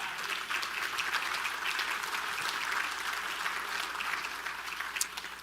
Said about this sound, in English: You should give yourselves a round of applause for being those people.